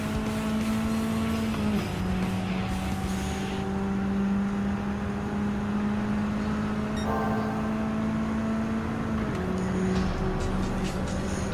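Steady racing-car engine note from Gran Turismo 7 during a European Sunday Cup race, holding a high gear down a straight with a couple of brief pitch drops at gear changes, alone without talk.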